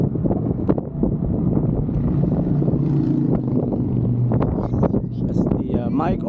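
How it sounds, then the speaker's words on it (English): Strong wind near Hoover Dam buffets the microphone with a loud, continuous rumbling roar, while a voice speaks briefly through the gusts. "really windy"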